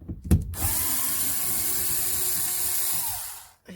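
Power drill backing screws out of a fiberglass shell side window on a van, a couple of quick clicks, then a steady whirring run of about three seconds that winds down and stops.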